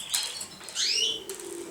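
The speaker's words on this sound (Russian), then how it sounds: "Кормим голубей, говорим о голубях, наблюдаем за голубями" Pigeons at a feeding spot give a brief flurry of wingbeats and soft cooing, fairly close but quiet, with short bursts of flapping over a low coo.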